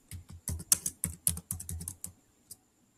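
Quick bursts of typing on a computer keyboard, close-up key clicks in uneven clusters with short pauses and one final isolated tap.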